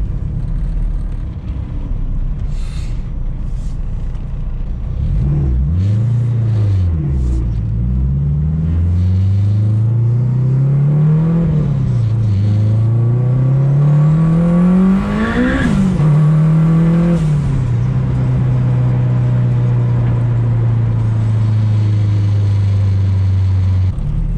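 A built turbo K20-swapped Civic hatchback of over 500 horsepower pulls hard on the street, its loud, close engine climbing through several rising revs with gear changes before settling into a steady drone.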